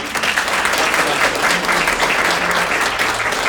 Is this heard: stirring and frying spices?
no